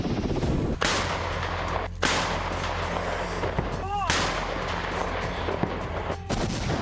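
Artillery guns fire in the war in Ukraine: several heavy, sharp booms spaced a second or two apart cut through a loud, continuous rumbling backdrop.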